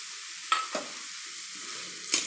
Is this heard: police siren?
no